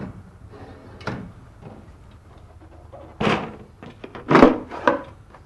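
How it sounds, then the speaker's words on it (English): A plastic drawer on a Red Sea MAX S-Line aquarium cabinet is released from its catches and pulled forward, giving a few close, hollow thunks and sliding knocks in quick succession with quiet gaps between. "to release it, you just have to press on the plastic catches and pull the drawer forward"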